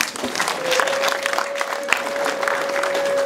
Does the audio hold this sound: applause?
yes